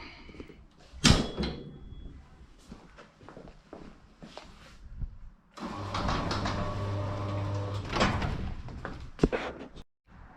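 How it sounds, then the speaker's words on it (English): A garage door being lifted back up in a home garage used for trailer storage, starting with scattered knocks and clunks, then a loud rolling rumble for a few seconds before it stops with a final bang. "Sorry, just forgot one thing to do, which is to lift the garage door back up."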